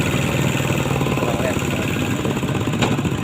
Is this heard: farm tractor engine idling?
yes